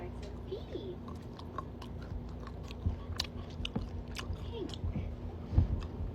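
Chocolate chewed up close into the mic during a mukbang, with soft wet bites and crunches scattered irregularly over a low background hum, no clear talk during the chewing.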